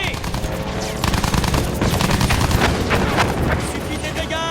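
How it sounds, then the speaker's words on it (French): Rapid machine gun fire rattles continuously in Battlefield 1 during a battle around London, dense and loud with booms mixed in, while a voice talks over the shooting. "Tire vite et serré!"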